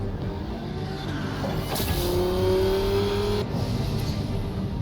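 A car engine drives and revs in the video game Batman The Telltale Series, a steady close roar with a rising whine in the middle and a brief squeal-like sweep, with no talking.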